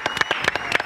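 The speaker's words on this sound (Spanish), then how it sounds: "Diego, lo recibo con un aplauso." Brief burst of rhythmic clapping from a television studio audience welcoming a guest, close and steady, heard alone for under a second.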